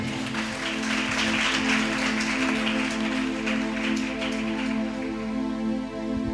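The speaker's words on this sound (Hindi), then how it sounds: "ताली बजाएंगे भाई" A church youth congregation claps hands together in a dense, steady patter that continues throughout, with a sustained musical tone underneath.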